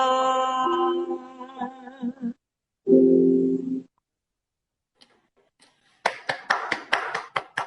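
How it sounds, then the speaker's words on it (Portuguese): Applause breaks out at a live music stream after the last notes of a sung, accompanied performance fade into silence, with a short burst of clapping at the end. "Aplausos!"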